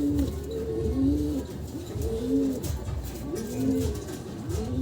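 Racing pigeons being conditioned for a race, cooing close by in a repeated rolling rhythm, about four swelling coos in a few seconds, loud and clear over a faint background.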